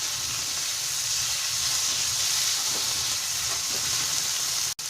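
Onion and tomato frying in a pan for ghughni, a loud, steady sizzle and hiss held throughout, close up, with faint stirring underneath.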